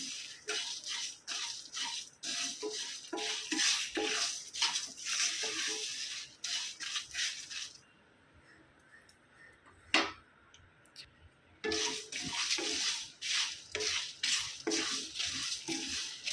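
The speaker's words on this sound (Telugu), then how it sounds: "ఇలా మనకి చిట్పట్లు ఆడితే సరిపోతుందండి" Whole spices dry-roasting for chicken garam masala crackle and stir in a pan, with dense close scraping and ticking bursts, a quiet gap with one sharp clink, then the busy crackling resumes.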